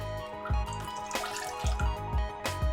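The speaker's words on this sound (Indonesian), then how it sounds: "cuci irisan singkong hingga benar-benar bersih dengan cara dibilas sekitar 5 atau 6 kali hingga airnya itu menjadi bening" Sliced cassava being rinsed in water gives off splashing and sloshing with a few deeper plunging swishes at a steady pace, close by and without any talk.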